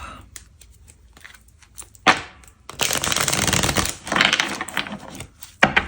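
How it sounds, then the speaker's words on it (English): A deck of tarot cards is shuffled by hand, half the deck at a time, in bursts of rapid riffling and soft flicking, close and fairly loud, with short pauses between runs. "So let's shuffle the other half."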